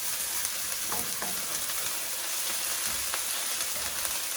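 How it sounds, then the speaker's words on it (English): A paste of green chili and ginger sizzles in a hot pan for a chicken curry, a steady soft hiss and crackle with faint stirring scrapes throughout. "now you can hear the sizzle"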